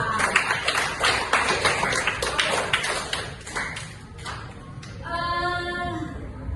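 A class of students claps hands together in a classroom, a burst of sharp, uneven claps over the first few seconds that thins out, followed by a brief tonal ring near the end.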